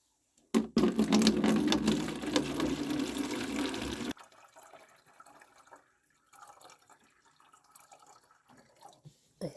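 Collected rainwater pours steadily and splashes into a jug for a few seconds, then stops, leaving quiet handling noises and faint trickles.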